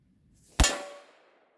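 A 10mm Glock round striking a rifle-rated armor plate on the right side, one sharp metallic clang that rings and fades over about a second, heard alone in a quiet moment.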